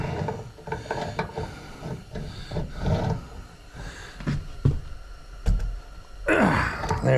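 A ratchet wrench clicks in short bursts while tightening a fitting on a propane tankless water heater, with quiet intermittent ratcheting and handling noises close by.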